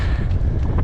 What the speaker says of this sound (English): Very cold wind.